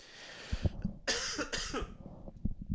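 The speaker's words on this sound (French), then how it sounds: "ça tousse encore un petit peu" Several coughs, a couple of short ones followed by a harsher, longer burst, close up with quiet background noise.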